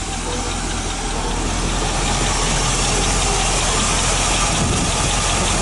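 A 1986 Chevy K10 engine idles steadily on its own after sitting for nine years, a loud continuous rumble with a faint rapid ticking from a dry lifter or rocker arm running through it.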